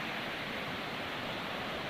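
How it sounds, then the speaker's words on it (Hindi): Heavy rain pouring near a waterfall, a dense, unbroken roar of broadband water noise at constant loudness throughout, with no voices. "बहुत बारिश, ज़्यादा बारिश होता है इधर, बहुत बारिश हो रहा है।"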